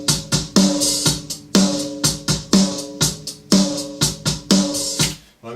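A rock drum kit captured by top and bottom snare mics plays a steady groove of punchy kick and crisp snare hits with hi-hat between, alone and evenly paced.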